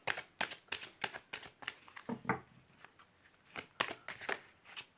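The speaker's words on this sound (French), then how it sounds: "Est-ce que j'ai une autre carte à tirer?" Tarot cards being drawn and shuffled by hand, a string of quick crisp riffling snaps and slaps in irregular bursts, close and fairly quiet, with no voices.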